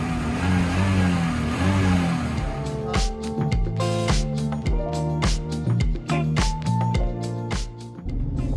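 An old Mercedes-Benz engine idles roughly at first, then breaks into a series of sharp, loud revs that rise and fall repeatedly, close and dominant.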